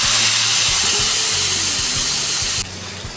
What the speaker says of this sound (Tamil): இப்போ ஃப்ரை பண்ணி எடுத்துக்கலாம்.